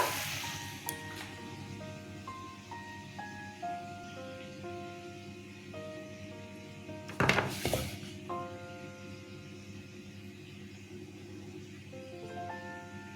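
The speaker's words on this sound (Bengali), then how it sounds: "এবার তেলে ছেড়ে দিচ্ছি এই দেখুন ভাজছি" Jibe goja dough sizzling in hot oil for the Rath Yatra sweet, a steady crackling hiss under background music, with a brief louder spattering burst partway through.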